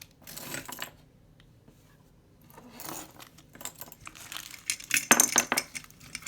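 Black glass or stone beads from a jewelry jar clinking and rattling, scattered light clicks at first, then a busier cluster of tinkling knocks building toward the end, close and fairly quiet.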